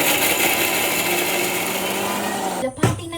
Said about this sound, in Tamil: இந்த இடிக்கறி சின்னதாக இருக்கிறதுனால நாங்கள் பிளேண்டரில் போட்டு அரைக்க போகிறோம்